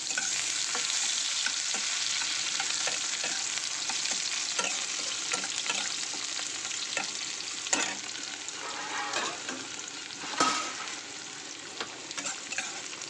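Crushed garlic fries in hot oil with a steady bright sizzle, broken by occasional scraping and stirring sounds from a spoon in the pan.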